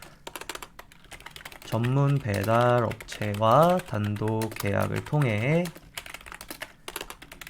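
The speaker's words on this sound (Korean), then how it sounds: "그리고 타이핑을 진행할게요." Steady keyboard typing while entering text into a Notion page, a rapid clicking that continues under someone speaking Korean for most of the stretch.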